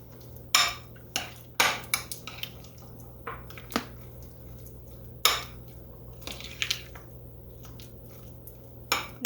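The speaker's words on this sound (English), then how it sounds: "Just mix this up." Date pecan tea bread batter being mixed by hand in a bowl, giving sporadic close clinks and wet scrapes of a utensil against the bowl, in uneven bursts over a low steady hum, with no talking.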